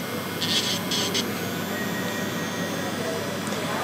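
An electric nail drill with a milling bit whirs steadily at close range during a manicure on long nails, a constant high whine with a few brief brushing scratches.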